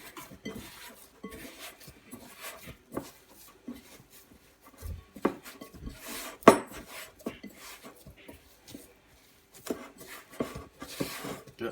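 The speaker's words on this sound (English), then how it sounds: "all you're going to do is give it a good mix, get it all the way through, as if you're making a burger" Minced lamb is worked by hand with herbs and spice powders in a bowl, giving soft squelching and scattered clinks and knocks against the dish, fairly quiet and close with no talk.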